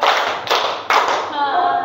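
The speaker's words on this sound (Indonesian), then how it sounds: "Tepuk tiga." Schoolchildren in a classroom clapping together on command, with sharp, loud group claps close by and a lingering ring after the last one.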